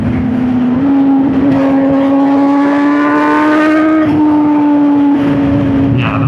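A loud MV Agusta naked motorcycle engine, 208 horsepower, revs hard and holds a high, raspy tone, pitch climbing then dipping, close and continuous.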